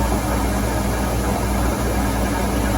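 Steady mechanical hum of a metal lathe turning slowly in back gear at about 46 rpm, drilling with a 5mm drill, with a continuous low drone and broadband hiss and no voices.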